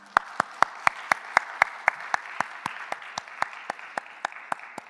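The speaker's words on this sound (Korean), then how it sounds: "우리 그 시간을 허락하신 하나님께 영광의 박수로 올려드리겠습니다" Church congregation at a Sunday morning worship service clapping in unison, evenly spaced rhythmic claps ringing out in the hall at a steady tempo.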